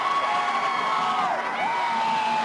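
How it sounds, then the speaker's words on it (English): A football stadium crowd roars during a Baylor vs Texas game, a loud sustained wall of cheering and whistling with sharp pitch swoops, steady throughout with no talk. "the crowd, the noise level here will be a factor throughout the day."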